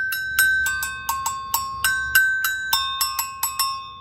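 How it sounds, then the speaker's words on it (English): Two-tone metal double bell struck with a stick, about a dozen bright, ringing hits in a steady, fairly quick rhythm, alternating high and low pitches, each note decaying briefly. "So you can see that it's two bells."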